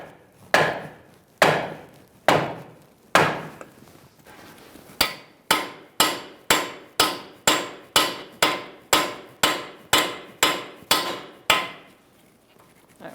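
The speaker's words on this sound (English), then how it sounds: "Use a piece of wood and a sledgehammer after you put your nut on that stud." A sledgehammer strikes a block of wood set against a strut stud to free the axle on a 2000-2007 Ford Taurus front strut job. First come a few spaced blows, then a fast, steady run of about fifteen loud, sharp knocks.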